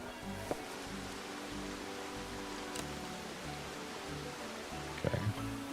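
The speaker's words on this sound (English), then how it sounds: "it really would be great if this wasn't raining so much." Steady soft rain hiss fills the whole stretch at low level during a Splatoon 3 game stream, with a couple of brief faint clicks and one small louder patter near the end.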